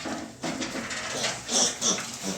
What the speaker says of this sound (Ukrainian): Також ось хороші поросятка